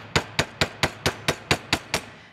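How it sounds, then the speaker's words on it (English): A ball peen hammer's rounded end texturing a metal jewelry piece in a cold-connection setup, nine sharp metallic taps at a steady, slightly quickening rhythm, close and clear with no talking. "you can use anything from the ball part of the ball peen hammer"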